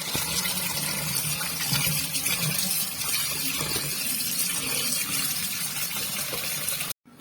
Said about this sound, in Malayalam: ഇനി മീനിലേക്ക് വെള്ളം ഒഴിച്ച് ഇതൊന്ന് എടുക്കും